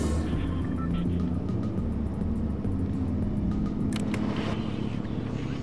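A car driving in the battle royale game Fortnite, with a steady, loud engine rumble running throughout alongside continuous game sound and brief higher noises near the end.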